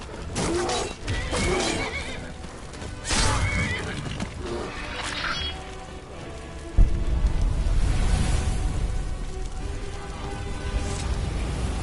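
A horse neighs in the video game Skyrim, a loud whinny over busy game sounds and what may be hoofbeats or rain, with a burst of louder action partway through.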